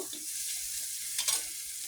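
Green and dried chili paste mixture being stirred and fried in a pan: a steady close sizzle with a soft scrape of the spoon near the end, brief and without voices.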